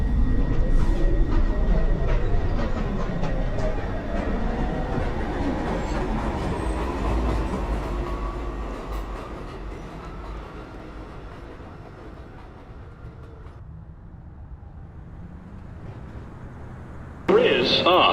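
A New York subway Downtown Express 2 train roars into Beverly Road station at evening rush hour, rumbling loud at first and then easing as it slows, with a sudden bright burst near the end.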